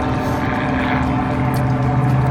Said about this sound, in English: there's that biplane